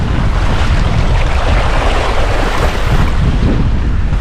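Steady broadband wash of Atlantic Ocean waves and wind around a sailboat under way in the Mona Passage, continuous and loud with gusting wind noise on the microphone, no voices.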